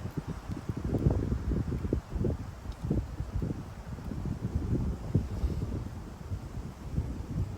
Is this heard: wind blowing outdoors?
yes